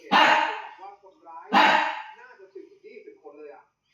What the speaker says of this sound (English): This dog is barking so much.